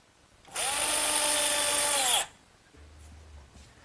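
A power drill drives 1¼-inch galvanized screws into wood, one loud whining burst of under two seconds close by, then a low faint rumble afterward.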